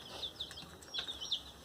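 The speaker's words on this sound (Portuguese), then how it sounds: "E finalmente chegaram os pintinhos, chegaram cheios de fome." Newly arrived, hungry chicks kept in a roomy stove box, giving repeated faint high peeping calls against a low background hiss, with no one talking.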